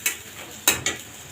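Ginger-garlic paste is stirred in a hot pan, with a few sharp spatula scrapes and clinks against the metal over a faint, steady sizzle, close by and with no voices.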